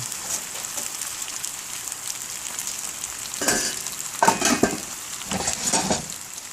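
Food frying in oil gives a steady close sizzle with louder bursts of crackle and stirring toward the end, and no voices.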